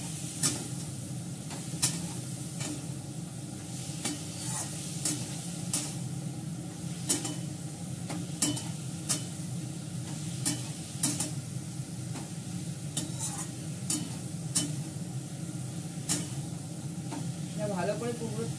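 Chilli-garlic paste stir-fries in mustard oil in a wok, a steady soft sizzle broken by repeated scraping clicks of a spatula against the metal, with faint talk in the background.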